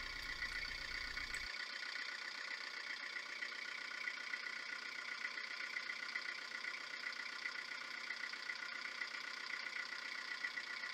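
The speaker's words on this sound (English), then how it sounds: "So fire the engine up." Narrowboat engine with a PRM150 gearbox, freshly serviced, idles with a steady, even mechanical hum and faint knocking rhythm throughout, a brief low thump at the start, no voices.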